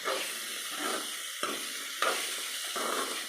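Pumpkin curry cooks in a pan with a constant loud sizzle and hiss, broken by several sharp scrapes and knocks from stirring.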